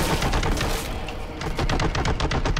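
Heavy weapon gunfire in the Warhammer 40,000: Boltgun video game, a dense, continuous barrage of rapid shots and blasts filling the whole stretch at steady loudness, with no talking.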